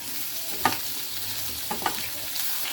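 Potatoes, pointed gourd and tomato frying in a pan give a steady close sizzle, broken by a few quick utensil knocks and scrapes.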